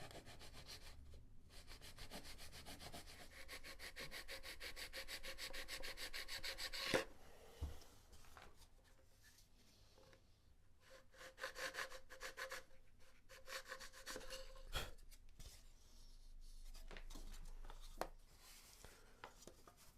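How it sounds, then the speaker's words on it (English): Steady back-and-forth scraping of a T-bar sander on the balsa fin of a Carl Goldberg Sukhoi SU26MX model airplane, quiet and close, with brief pauses and a few knocks. "So I'm just going to hold it down and use the T-bar sander to do my adjusting."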